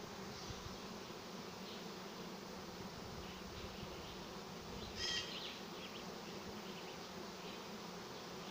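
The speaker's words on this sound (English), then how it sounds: "Lots of bees." Honeybee swarm moving into a swarm trap beside a pathway, a dense continuous buzzing drone at an even faint level, with one brief brighter buzz passing close.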